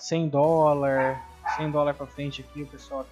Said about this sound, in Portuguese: O cachorro começou a latir.